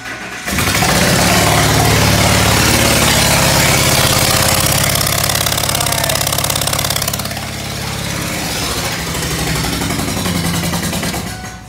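A Ford F-250 Super Duty 4.6/5.4 V8 with a blown-out spark plug cranks and fires up, then runs with a loud, harsh, rapid chuffing and popping idle up close, settling slightly after several seconds before cutting off.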